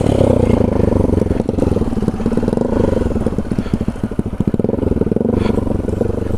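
A motorcycle engine runs close by, loud and continuous, with a rough, rapid chugging throb and some rattling clatter throughout.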